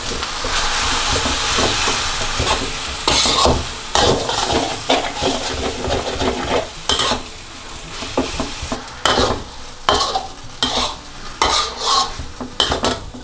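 Vegetables and glass noodles are stir-fried in a pan, with a steady sizzle broken by repeated scraping and clanking of a utensil against the metal, loud and close.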